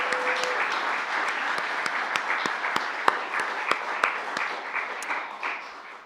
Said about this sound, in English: Let's put a round of applause for all the musicians tonight.